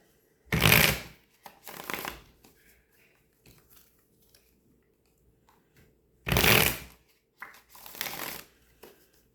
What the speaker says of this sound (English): we're just going to shuffle the deck up